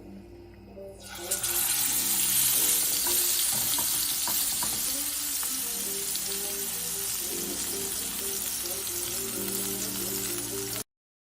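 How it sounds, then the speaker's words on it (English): Filet mignon steak searing in hot canola oil gives a loud, steady broadband sizzle that kicks in after a second of quieter sound and holds evenly, with soft tonal background underneath. "And I'm just gonna start searing this steak."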